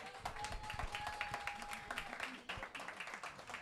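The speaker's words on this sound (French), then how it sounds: "On peut l'applaudir" An audience claps for a dancer at a jazz rock discussion event, a steady patter of applause running throughout with some voices mixed in.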